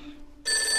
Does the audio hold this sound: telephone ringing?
yes